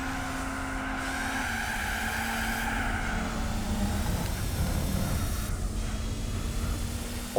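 A Mazda RX-7 rotary engine howls steadily in Gran Turismo 4, holding a high droning pitch through gear changes with rising and falling revs as the car is driven, close and continuous without talk.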